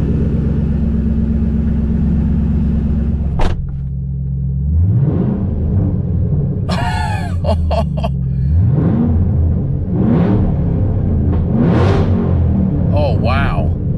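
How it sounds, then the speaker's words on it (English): A Ford Shelby GT500 with its mufflers sawed off idles with a deep, loud rumble and is blipped through several sharp revs that rise and fall, recorded close to the car. "Let's see what the GT500 sounds like now."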